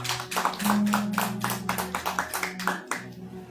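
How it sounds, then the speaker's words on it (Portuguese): Rhythmic hand clapping from a church service congregation, a quick steady beat of claps with a sustained tone or hum underneath, fairly quiet. "Aplauda ele aí bem forte em nome de Jesus."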